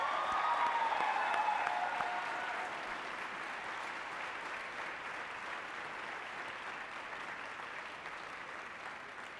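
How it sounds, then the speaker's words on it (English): A concert audience at a college arts performance applauds after a jazz ensemble, with steady, even clapping that stays strong and slowly softens as it goes on, a fading musical tone audible under the start. "How about another round of applause for that?"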